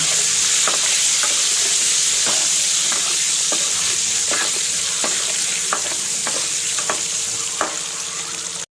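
Eggs fry in a pan with turmeric, a loud steady sizzle punctuated by regular spatula taps and scrapes roughly every half second.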